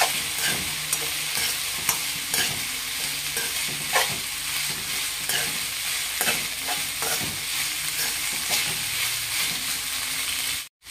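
Sprouted horse gram is stirred into softened tomatoes in a frying pan. A steady close sizzle runs throughout, with repeated spoon scrapes and soft clacks at an irregular pace and no voices.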